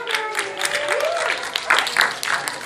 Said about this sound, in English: How about a great big round of applause for Rachel, everyone?